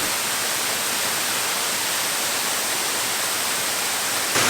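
A waterfall at Yunnan Gardens in Singapore rushes in a steady, dense hiss of falling water that stays even and loud throughout, with no voices.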